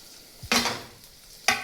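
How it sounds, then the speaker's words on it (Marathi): Finely chopped ginger and garlic hit melted butter with half a spoon of oil, giving two short bursts of sizzle with a brief stir between them, close and fairly loud, with no voices. "बटर वितळलेलं आहे, त्यामध्ये आता घालणार आहोत लसूण, आलं,"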